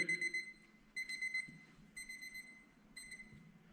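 Repeating electronic timer alarm during a G Shild diamond coating job, four short bursts of high steady beeping about a second apart, fairly faint over a low background hum.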